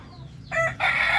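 A Darag native chicken on a breeding farm lets out short, loud clucking calls at close range, two brief bursts in quick succession over a low background murmur.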